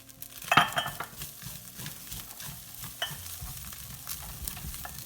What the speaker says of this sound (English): Now in with our 3 minced cloves of garlic,